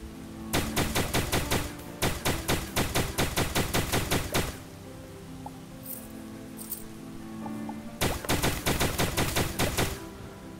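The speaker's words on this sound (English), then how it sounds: "This is a pretty good gun I got that my buddy, the Danky, gave me." Rapid automatic gunfire from a gun in the video game Starbound, two long bursts of evenly spaced loud shots separated by a few seconds of quieter ambience.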